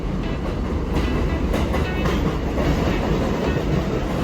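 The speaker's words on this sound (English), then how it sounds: "We took the subway straight from LaGuardia into downtown Manhattan." A New York City subway train rides from LaGuardia toward downtown Manhattan, a loud, steady rumble with rhythmic clickety-clack of the wheels throughout, heard from inside the car with no talk.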